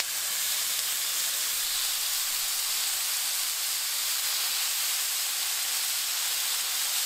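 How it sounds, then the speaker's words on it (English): Carne asada beef searing on a burner over medium-high heat gives off a steady, even hiss of sizzling that runs unbroken and fairly loud throughout, with no voices. "we want a good sear for this carne asada"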